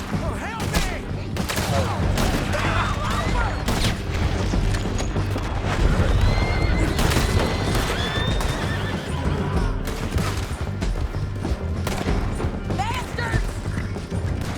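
Horses neigh and whinny repeatedly over hoofbeats and bursts of gunfire during a chaotic shootout in Red Dead Redemption 2, with loud action filling the whole stretch.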